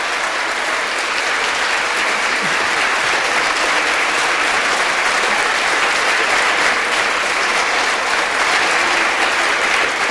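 Thunderous, sustained applause from a packed House of Representatives chamber rolls on steadily for about ten seconds, loud and even with no speech over it.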